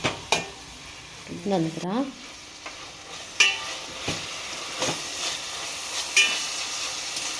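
A spoon scrapes and stirs veg Hakka noodles with soy sauce in a pan. The strokes are scattered and soft, with brief faint sizzling and a short spoken word.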